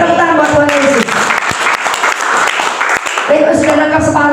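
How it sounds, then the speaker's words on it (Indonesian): Church congregation clapping during a worship service, loud mixed applause with a voice speaking over it and sustained tonal music or organ chords at the start and end. "Beri tepuk tangan buat Tuhan Yesus."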